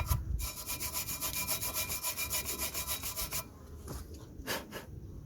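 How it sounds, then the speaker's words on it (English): Rust and dirt on a Vauxhall Opel Astra front brake carrier are scraped off in quick, rhythmic back-and-forth strokes, close and gritty, with a few slower, separate rasps at the end. "So just gonna remove all the rust, all the dirt from here."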